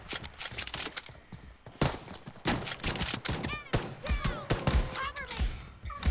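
Gunfire rattles through a shooter video game as repeated sharp shots and rapid bursts at close range, with voices talking over the action.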